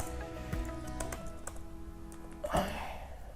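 Keys clack on a computer keyboard in a short burst of close, irregular taps, with a slightly louder cluster near the end and a faint hum underneath.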